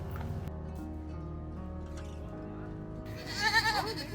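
Goats bleat at an animal farm in Cabo, a few close calls rising toward the end over a busy mix of farm sounds and faint bird chatter.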